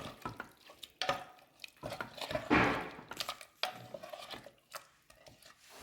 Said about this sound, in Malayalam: ഇനി നമുക്കിതെല്ലാം കൂടെ നന്നായിട്ട് ഇളക്കി കൊടുക്കാം